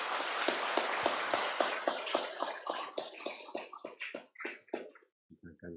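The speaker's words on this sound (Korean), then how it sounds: "우리 박수 한번 크게 쳐주시기 바랍니다" Church congregation applauding during a Sunday worship service, a dense burst of many hands clapping that holds steady, then thins into scattered separate claps and fades out near the end.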